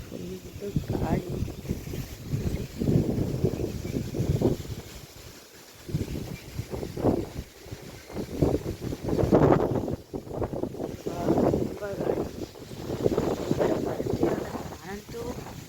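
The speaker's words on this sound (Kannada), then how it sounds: "ತುಂಬ ಗಾಳಿ ಬೀಸ್ತಾ ಇದೆ." Strong gusty wind buffets outdoors on a rainy morning, surging and easing in loud rushes against the microphone while a person talks over it.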